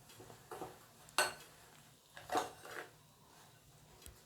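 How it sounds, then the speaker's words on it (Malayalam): Rava semolina being mixed with curd in a bowl, giving a few soft scraping strokes of a spoon against the bowl spaced out over quiet pauses, close and faint. "ഇനി നല്ലോണം ഒന്ന് മിക്സ് ചെയ്യുക."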